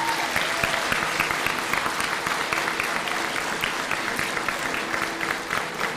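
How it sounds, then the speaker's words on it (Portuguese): Loud, dense applause from a church congregation during a Sunday morning service, sustained steadily for several seconds and heard alone without talk. "Vamos dar um forte aplauso."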